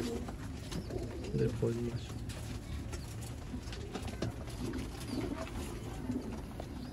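Pigeons kept by a hobbyist coo on a rooftop in Sialkot, soft repeated throaty calls close by, with people talking over them at moments.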